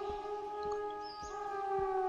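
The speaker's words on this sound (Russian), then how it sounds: "А сирена, я как и говорил, они сбегаются на звук." A steady wailing siren in the zombie survival game Zompiercer holds several sustained tones over a low rumble, with soft thumping footsteps underneath and no talking.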